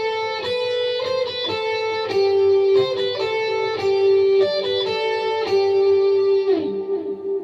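Lead electric guitar plays the instrumental section of a worship song, a repeating melodic line of clear sustained notes with a few slides, close and unaccompanied.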